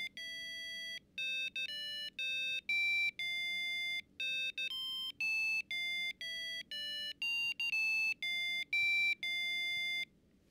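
A small piezo buzzer driven by an Arduino microcontroller timer interrupt plays a simple melody of bright, steady electronic beeps, a run of distinct tones with short gaps between them, close and clear with no talk.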